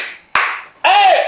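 Two sharp hand claps ring out, separated by a short pause, close and loud with a brief bright tail after each.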